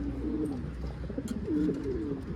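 Wild pigeons coo nearby in two soft, warbling rolling phrases, with a few faint clicks and rustles around them and no speech.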